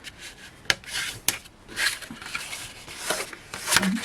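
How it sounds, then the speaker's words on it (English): Card is folded and burnished with a porcelain bone folder, giving close, dry rubbing swipes and scraping strokes in an irregular series, with a couple of sharp taps. "we'll give this a little fold over and a burnish down."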